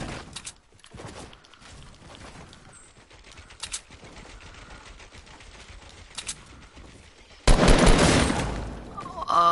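Shotgun blasts in the video game Fortnite, a few sharp distant shots early on, then a loud close burst of gunfire near the end.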